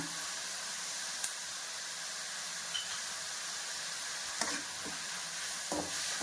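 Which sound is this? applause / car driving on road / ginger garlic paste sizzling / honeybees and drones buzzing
ginger garlic paste sizzling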